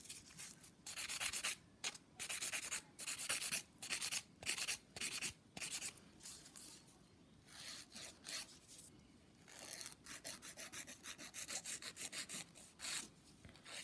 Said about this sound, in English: You're filing the nail